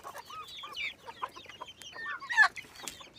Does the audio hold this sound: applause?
no